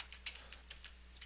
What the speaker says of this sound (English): I'm just going to go ahead and type in